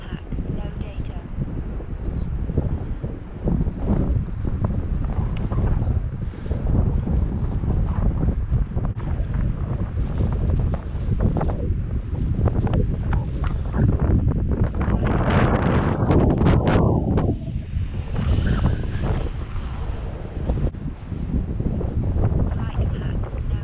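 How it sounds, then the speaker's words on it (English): Strong wind buffets the microphone in a loud, steady roar throughout, around an Air Tractor aircraft on the ground, with engine and boat-like rumble underneath and voices talking over it. "Wind's kind of crazy."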